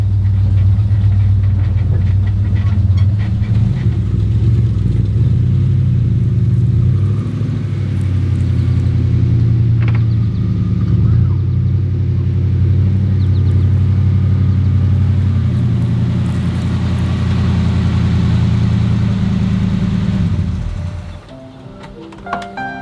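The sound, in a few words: 1972 Ford F250 crew cab truck turning around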